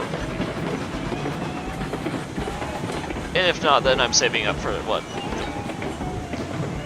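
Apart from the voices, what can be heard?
train running in the video game Railroads Online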